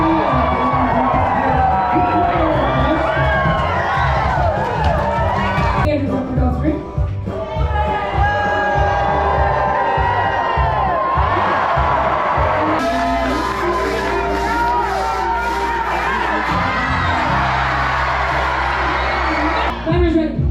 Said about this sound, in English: We're yelling.